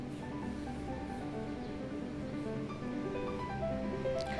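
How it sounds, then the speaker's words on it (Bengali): Water poured into a pan of cooking guchi fish gravy sets off a steady, close hiss and sizzle that runs without a break throughout. "এইবারে দিয়ে দিচ্ছি আমি পরিমাণ মতো জল"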